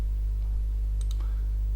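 Two quick computer mouse clicks while working in Photoshop CS6, close and crisp over a steady low electrical hum.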